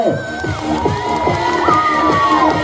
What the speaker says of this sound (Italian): L'applauso per Michele.